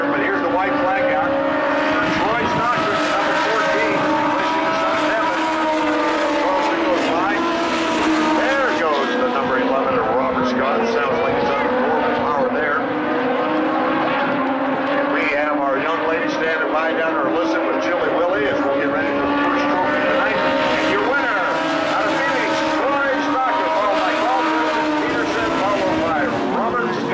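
Race cars in a Legends heat at Tucson Speedway roar continuously around the track near the white flag, a dense, steady engine drone with shifting pitch, heard under ongoing commentary.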